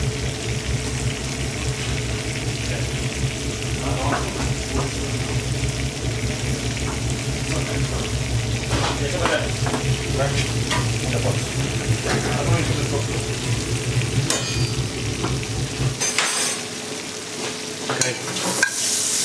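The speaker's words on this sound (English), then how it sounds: "So anyway, mushrooms in, alright? Onions in," Mushrooms, onions and leek fry in a pan, a continuous sizzle broken by scraping and clinking stirring strokes, with a low steady hum underneath and faint voices in the background.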